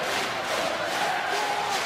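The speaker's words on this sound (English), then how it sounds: "A good response from the Saints crowd." Northampton Saints supporters at a rugby union match raise a steady roar of crowd cheering, a broad, distant wash of many voices sustained throughout without pause.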